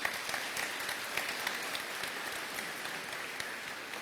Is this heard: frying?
no